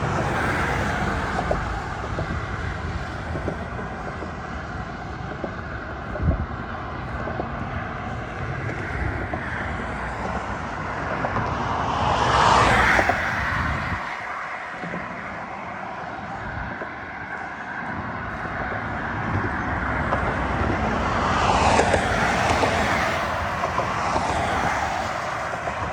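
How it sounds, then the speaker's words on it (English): Big trucks pass over a bridge across the Delaware River, a continuous loud roadway rumble with two swelling passes that rise and fade, heard close by with no talk. "Big trucks coming by."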